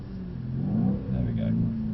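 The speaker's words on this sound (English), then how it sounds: "Keep those revs really low." A car engine idles and revs gently at low RPM, giving a steady close rumble with slight swells in pitch and loudness, and a voice is heard alongside it.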